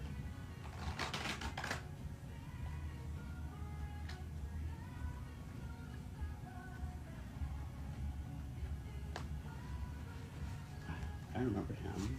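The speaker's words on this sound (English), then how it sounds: "I'm just gonna shuffle this one more time" A deck of cards is shuffled during a card reading, with a quick riffling burst near the start and another near the end, heard quietly over a low steady background.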